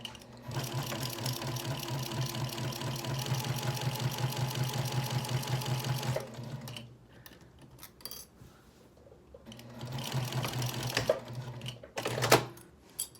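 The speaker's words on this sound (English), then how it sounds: "I just backstitched right there" Domestic sewing machine stitching and backstitching a fabric project bag: a fast, even mechanical chatter for about six seconds, a short quiet pause, then another burst of stitching.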